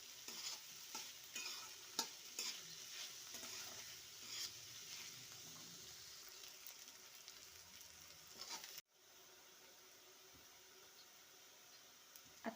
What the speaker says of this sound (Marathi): कांदा तेलामध्ये चांगला परतून घ्यायचा, लालसर होईपर्यंत चांगला तळून घ्यायचा